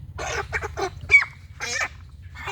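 Poultry chickens in a yard give several short, rough clucking calls in quick bursts, fairly close, over a steady low background hum.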